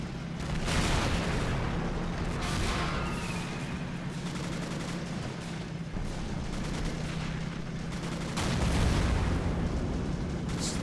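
Panzer tank cannons fire in a World War II video game battle, with repeated booming blasts and rattling gunfire bursts over a steady low rumble, moderately loud throughout.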